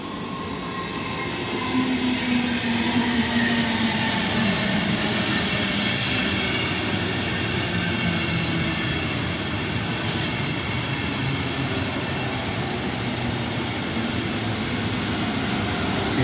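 Intercity train hauled by a class 101 locomotive passing through Uelzen station, a loud sustained roar of rolling wagons and wheel noise lasting the whole stretch, near and unbroken, with no talk.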